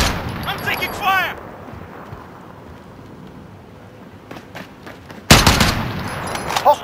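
Gunfire in Call of Duty Warzone on Rebirth Island: a brief burst of shots at the start, then a quieter stretch with scattered faint pops, and a loud, dense volley of fire near the end, with voices talking between.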